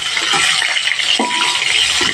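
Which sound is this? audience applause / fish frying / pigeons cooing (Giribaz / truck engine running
fish frying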